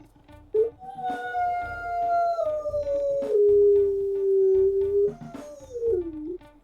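A long, mournful wolf howl from the video game WolfQuest rises and slowly falls, followed by a second whiny howl that bends downward at the end, clear and prominent.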